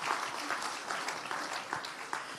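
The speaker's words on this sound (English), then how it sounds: "A round of applause." An audience claps steadily at a conservation forum opening session, a dense and even round of applause heard from a distance without any voices over it.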